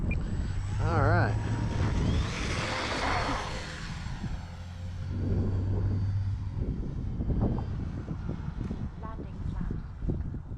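An E-flite EC 1500 RC model airplane drones overhead in strong gusty wind, its electric motor whine rising and fading as it passes, with wind buffeting the microphone and someone talking at times.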